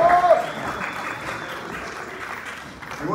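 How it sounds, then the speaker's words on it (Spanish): A crowd claps in sustained applause that fades slightly over a few seconds, welcoming cast members at a telenovela cast presentation. "Fuerte aplauso para Erika."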